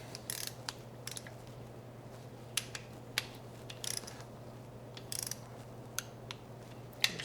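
A torque wrench ratchets down bolts on an LQ4 engine, giving short bursts of sharp, fairly close clicks at irregular intervals over a steady low background hum.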